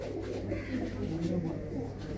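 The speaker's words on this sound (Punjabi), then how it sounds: "ਇਹ ਸਿਰਫ ਕਬੂਤਰ ਜਿਹੜੇ ਤੁਸੀਂ ਦੇਖ ਰਹੇ ਹੋ ਤੁਹਾਡੇ ਸ਼ੌਂਕ ਦੇ ਲਈ ਆ ਮਿੱਤਰੋ" Fancy hobby pigeons kept in a Punjabi village near Amritsar coo in low, repeated throaty calls, close by, with a faint voice in the background.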